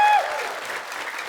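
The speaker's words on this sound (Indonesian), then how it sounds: "Tepuk tangannya dong" A studio audience on a television comedy variety show applauds the quiz winners in a loud, full burst of clapping that opens over a short musical tone and then continues steadily.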